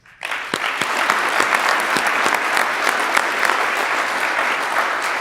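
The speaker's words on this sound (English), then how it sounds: "if you guys can give yourself a round of applause" A hall of student competitors and audience at a building industry competition breaking into applause, a dense, loud burst of clapping that starts abruptly and holds steady for several seconds.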